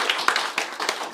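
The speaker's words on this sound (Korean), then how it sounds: "우리 격려의 박수 한 번 더 부탁드리겠습니다." A crowd applauds at a Korean newspaper's founding ceremony, with a brief, close burst of several quick, uneven claps.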